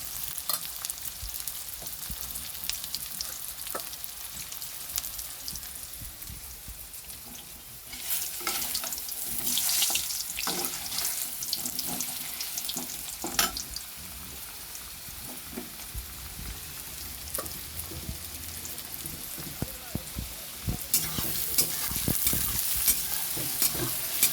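Onions frying in oil in a pan while being stirred for a meat curry, with a steady close sizzle and repeated scraping stir strokes, busier and louder midway.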